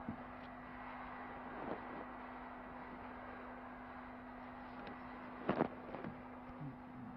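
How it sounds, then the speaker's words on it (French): Helicopter flying over Meiringen in the Swiss Alps on a 1981 French television treasure-hunt show gives a steady, low engine drone heard from inside the cabin, with a few brief knocks and bumps over it and no speech. "L'hélicoptère va donc aller là-bas se poser."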